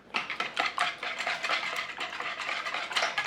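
Spoon stirring melted butter into muffin batter in a bowl, quick repeated scraping and clinking strokes, close and steady.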